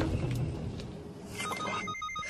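A mobile phone rings with a bright electronic tone that repeats, fairly loud and near, heard in a comedy film scene with no one talking over it.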